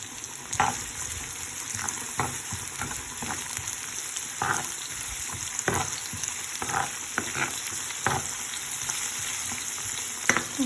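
Chickpeas frying in a pan, a continuous crackling sizzle punctuated by repeated spatula scrapes and knocks at irregular intervals, close-up with no one talking.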